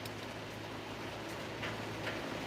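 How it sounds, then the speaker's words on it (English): Steady rain falls outside a workshop, forming a soft, continuous hiss throughout with no voices over it. "Oh wow, it really started raining."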